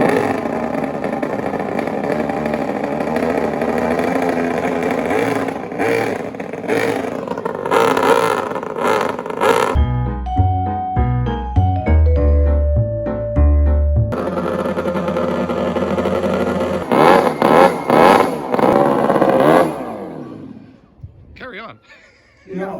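Racing engines roaring loudly in bursts, with revving and rising pitch as they pass, a rattling mechanical stretch in the middle, then the roar returning before fading near the end, with people talking over it.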